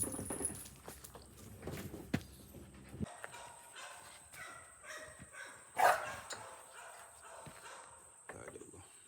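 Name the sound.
pup barking while playing with a flirt pole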